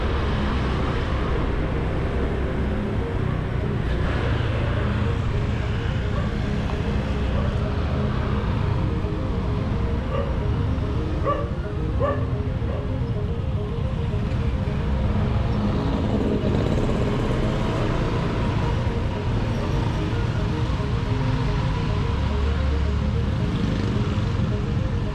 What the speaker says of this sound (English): Definitely here is a bit traffic